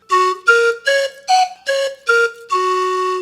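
Slide whistle, a piccolo-trombone-like instrument, played in seven clear breathy notes that step up and down in pitch, the last one held longer; solo and close.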